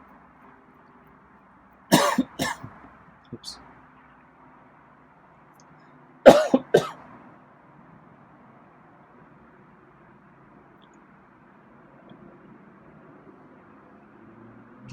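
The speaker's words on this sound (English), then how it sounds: "think I'm gonna cough again." A person coughs indoors in two separate bursts of a few rough hacks each, close and fairly loud, with quiet pauses between and low background hum.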